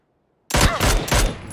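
Loud, close gunfire in the shooter game PUBG erupts after a moment of silence, several rapid bursts of shots pounding in quick succession with a ringing tail.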